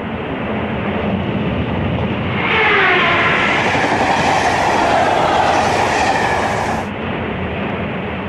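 Early Japanese high-speed train rushing past on the railway, a loud steady roar that swells as it passes close and then cuts off, with no voices.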